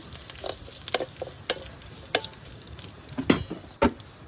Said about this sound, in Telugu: ఇవి బాగా ఫ్రై చేసుకోవాలండి